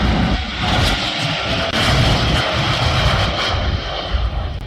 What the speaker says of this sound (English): This is a similar aircraft, a 787, taking off in the same runway, same direction.